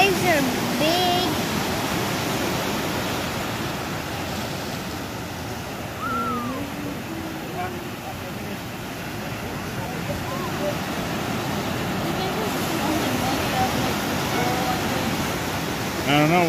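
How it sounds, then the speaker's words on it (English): Lake waves breaking against a pier, a continuous wash of surf and spray close by, with faint voices talking at moments beneath the steady roar. "Those waves are big."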